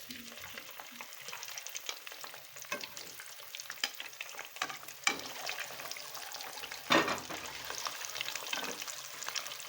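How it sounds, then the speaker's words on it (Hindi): Eggs and potatoes with onion fry on a medium flame, producing a continuous crackling sizzle with occasional louder pops and stirring scrapes, and no talk over it. "ये देखिए, हमारे आलू और अंडे फ्राई हो रहे हैं"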